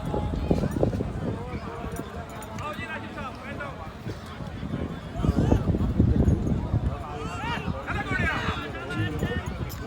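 A horse gallops during a tent pegging event, its hoofbeats rising into a louder, nearer rush midway amid steady crowd murmur and an announcer's voice over a PA.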